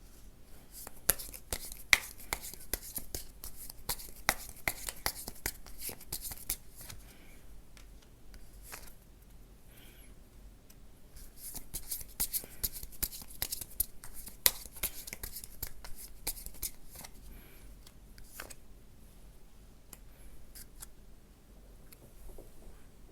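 Tarot cards being shuffled and handled produce quiet, crisp flicks and snaps in irregular bursts, close and faint, with soft rustling between them.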